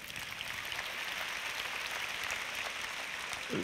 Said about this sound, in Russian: прошу аплодисменты.